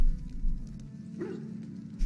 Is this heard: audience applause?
no